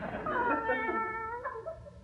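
A house cat meows in one drawn-out, wavering cry that rises and then falls away, close and clear with no speech over it.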